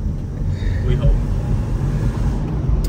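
BMW E36 exhaust burbles and rumbles at a low, uneven pitch close by inside the moving car, with a voice talking over it.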